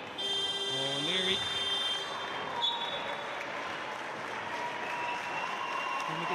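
Arena crowd at the 2019 women's basketball cup final, Courtyard Liffey Celtics versus Singleton, applauds a player checking out of the game, steady clapping mixed with a buzzer tone and a bouncing ball.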